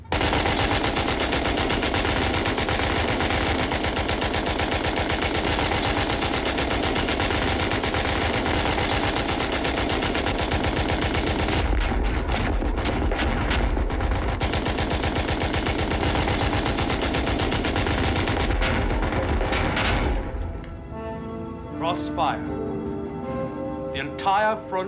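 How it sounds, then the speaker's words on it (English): Sustained German machine-gun fire from a WW1 film battle scene, a dense continuous hammering burst that runs loud for about twenty seconds before breaking off, with scattered shots and voices after. "As long as the machine gun's intact, neither side can cross no man's land."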